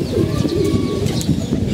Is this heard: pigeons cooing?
yes